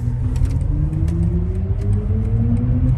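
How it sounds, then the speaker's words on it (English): A smooth, rising electric whine climbs steadily under a low rumble of road noise, with faint creaks and ticks inside a quiet cabin. "Whoa, the car just takes off."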